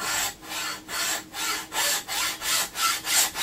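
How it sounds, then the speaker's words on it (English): Hacksaw cutting through a vehicle brake part with steady back-and-forth strokes, about eight rhythmic rasping passes, close and fairly loud, no talking. "get in there with the hacksaw."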